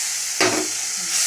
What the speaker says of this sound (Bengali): দিয়ে একটু জল দিয়ে কষাতে থাকি।